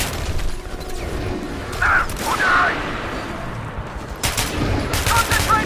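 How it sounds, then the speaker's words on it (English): A weak, puny gun fires in the shooter Metro: Last Light, giving a few short cracks between low rumbling background noise, with a couple of sharper bursts near the end. "I'm using like the puniest gun ever."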